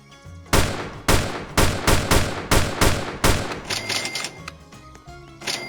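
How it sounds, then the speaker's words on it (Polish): Gunfire from players shooting in the Roblox game Town Tycoon: about nine loud, evenly spaced shots ring out in a steady rhythm, then give way to softer clicks and game noise. "Są ludzie, którzy strzelają."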